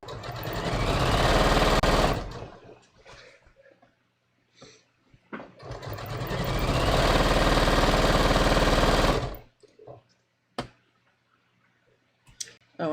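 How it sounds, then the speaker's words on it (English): Sewing machine stitching a tee shirt quilt with puffy pen on it: two long, loud runs of rapid mechanical stitching, separated by brief pauses filled with clicks and handling sounds, close up. "Oh, I'm sewing on the wrong side again."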